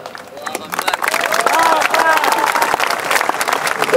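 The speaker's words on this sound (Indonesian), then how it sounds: "Tengok orangnya ragu-ragu tepuk tangan." An audience breaks into applause, starting sparse and hesitant and then swelling into steady clapping from a crowd with some murmuring, heard up close.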